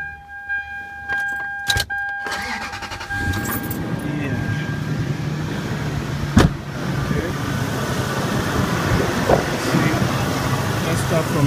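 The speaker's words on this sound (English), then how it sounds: "let's start this bad boy up and see if all of the ignition coils are working properly" A Toyota engine idles steadily after start-up during an ignition coil check, a continuous close rumble with clicks and a jangle of keys at the start and a sharp knock partway through.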